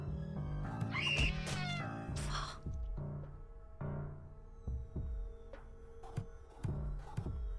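A cat in the Friday the 13th Killer Puzzle video game meows several times, with drawn-out, wailing cries early on and then shorter calls among soft game thumps, close and clear with no talk.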